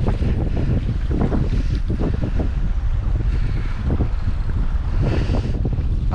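Strong wind roars steadily at sea from a fishing boat on a snowy day, a loud continuous buffeting rush with gusts and some wave wash, filling the whole stretch with no voices.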